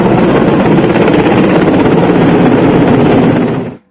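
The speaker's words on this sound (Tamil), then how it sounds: "விண்ணில் பறந்த ஹெலிகாப்டர் பூமழை தூவியது" A military helicopter flies overhead during a flower-showering flypast over a hospital, giving a loud, steady, close rotor roar that cuts off abruptly at the end.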